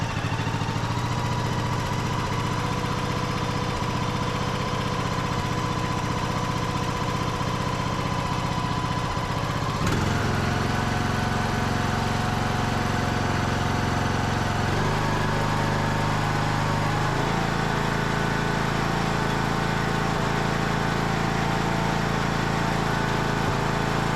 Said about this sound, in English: We'll try to crank this back up now real quick with no choke.